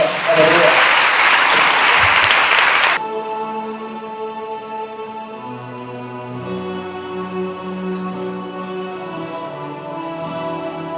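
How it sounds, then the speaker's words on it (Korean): Congregation at Yoido Full Gospel Church clapping loudly together at a Friday night service for about three seconds, then stopping abruptly as sustained organ or keyboard chords take over. "박수로 하나님께 올리겠습니다"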